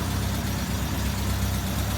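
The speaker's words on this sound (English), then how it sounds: "This is what our exhaust used to be like." A Triumph Spitfire Mk4 engine idles with the exhaust running, giving a steady, dense rumble that stays close and even throughout, with no voices.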